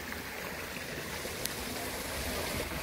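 Stream water flows steadily along a mountain bike trail, a soft continuous rushing and trickling wash with no speech over it.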